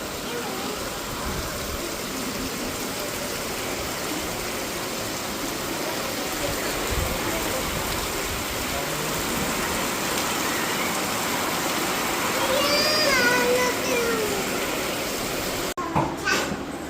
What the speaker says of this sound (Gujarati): વરસાદ આવ્યો હતો